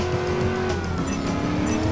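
A car driving in the video game Driver San Francisco, a loud steady engine roar with tyre noise and a skid, continuous and close throughout.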